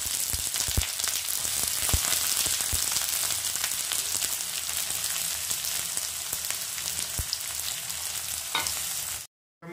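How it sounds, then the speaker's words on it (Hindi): Onions fry in a kadai with a dense, steady hiss of sizzling oil, sprinkled with small pops and occasional ticks, close and even throughout before cutting out at the end. "यहाँ पर कढ़ाई पे प्याज फ्राई हो गया है"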